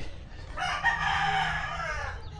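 A rooster crows in one long drawn-out call, fairly close, with low background noise and no talking.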